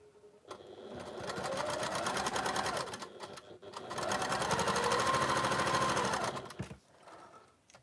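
Sewing machine stitching quilt fabric for an interlocking-triangles patchwork, running in two long steady bursts of rapid needle chatter with a brief pause between, near and fairly loud.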